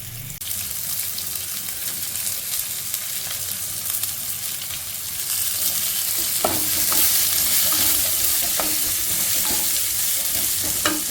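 Sliced onions dropped into hot oil with ginger and garlic sizzle steadily up close, the frying growing louder and brighter halfway through, with a few sharp scrapes of a stirring spoon against the pan near the end.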